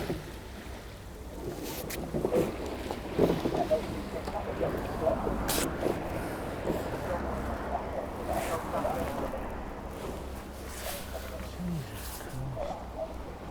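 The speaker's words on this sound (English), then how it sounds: "Constantly waiting for boats. This is the 4th boat crew that's come past now." A rowing crew passes along the Great Ouse river near Littleport, faint and distant: soft splashes and the rhythmic knock of oars over wind and low background noise.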